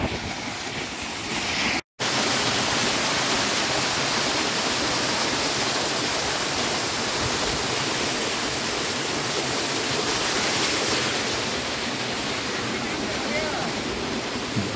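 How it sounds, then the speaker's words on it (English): The twelfth waterfall on the Rupin Pass trek roars as a loud, continuous rush of cold water, close by and unbroken apart from a momentary cut near the start. "So this is a much more closer view of the beautiful 12th waterfall."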